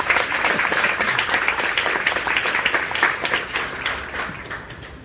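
Audience applause welcoming Briget Luther, California's Director of the Department of Conservation, to the stage at a Cradle to Cradle launch event; a dense, steady wash of clapping from a full room that eases off slightly near the end.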